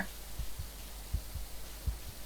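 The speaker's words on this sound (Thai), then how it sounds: "อะไรตึกตักตึกตา" A slow, muffled heartbeat thumps low and steady, in pairs, in a Garry's Mod horror map, heard alone over a faint hum.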